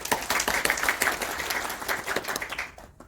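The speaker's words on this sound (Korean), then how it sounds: "한은선 전무를 박수로 맞이해 주시기 바랍니다" Audience applause welcoming a speaker at a corporate conference, a dense burst of many hands clapping at moderate loudness that thins and fades out near the end.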